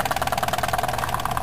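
A Jensen 25 toy steam engine runs at speed, its rapid, regular chuffing beat close and fairly loud with a faint mechanical hum underneath.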